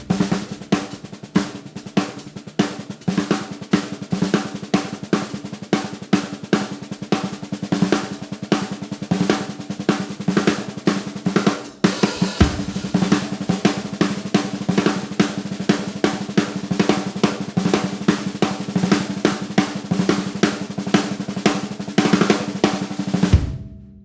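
A drum set improvisation built on the paradiddle sticking, with busy, continuous strokes across drums and cymbals for about twenty-four seconds, played close and loud with no talking.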